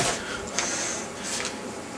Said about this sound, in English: Laser printer.